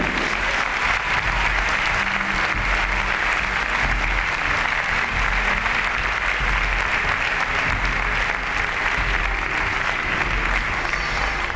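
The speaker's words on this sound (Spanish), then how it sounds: "Demos un aplauso al Rey" A church congregation breaks into sustained applause during a pastor's sermon. The clapping is loud, dense and steady from start to finish, a broad wash of many hands with a faint murmur of the crowd beneath.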